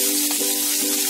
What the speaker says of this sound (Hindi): तो थोड़ी देर भून लें थोड़ा सा प्याज पकने तक।